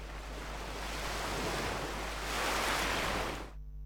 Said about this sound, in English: how about the ocean wave?